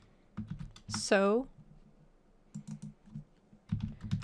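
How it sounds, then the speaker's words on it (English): Clicky keystrokes on a computer keyboard come in three quiet, close bursts, with a short gliding voice-like tone cutting in early on. "So you just want to start typing them in."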